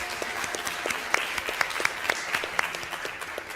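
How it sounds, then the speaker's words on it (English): Applause for honorees at a county school board meeting, a sustained moderate-level patter of many hands with a few sharper individual claps standing out, heard from a distance in the room. "Another round of applause,"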